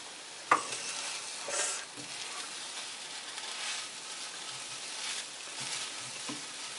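Breakfast food frying in a home pan with the burner being turned off, a steady soft sizzle running throughout with a sharp clink near the start and occasional stirring scrapes, fairly quiet and close.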